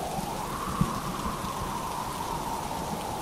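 Steady rainfall from a cartoon rainstorm hisses evenly and fairly softly, with a single faint drop-like tap early on and no voices.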